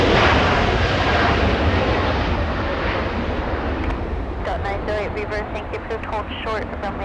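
An Airbus A321neo airliner at Los Angeles International Airport, a broad steady engine roar with wind buffeting on the microphone, while a voice talks over the later part.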